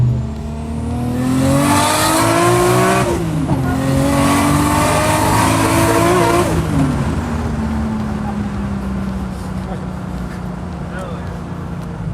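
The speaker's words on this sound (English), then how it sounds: "Excellent sounding wastegate and screamer combo" Nissan R34 GTR with an RB26 engine making a street pull, its wastegate and screamer pipe letting out loud rising turbo whooshes and a sharp release over the roaring engine, then engine noise settling into a steady drone; voices in the car.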